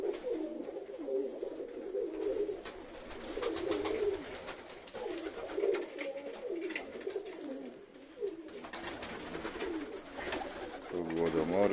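Pigeons coo in a loft during pairing, with steady low throaty cooing from several birds close by and a voice talking now and then over them.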